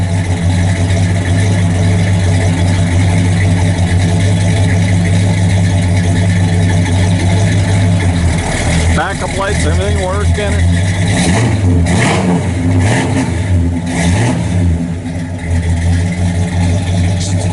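A 1966 Pontiac GTO Tri-Power V8 rumbles steadily at idle, then revs up several times with throaty exhaust bursts while someone speaks briefly over it.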